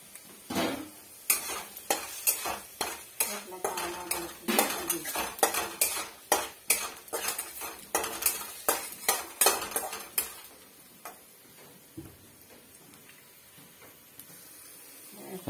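Sabudana khichdi for a fasting day being stirred in a metal pot, a spoon clattering and scraping against the sides in quick irregular strokes with faint sizzling underneath, close and busy for about ten seconds before easing off.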